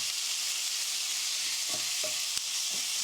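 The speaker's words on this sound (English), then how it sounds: "And then as soon as they start popping, you get your onions in. And your chard in. And we're going to give this a stir." Onions and rainbow chard frying in a pan for saag aloo, a dense steady sizzle with a few soft scrapes of stirring near the end.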